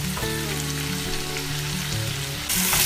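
Tomatoes sautéing in a pan for prawn thokku give a close, continuous sizzle over a steady low hum, swelling louder near the end, with no talking.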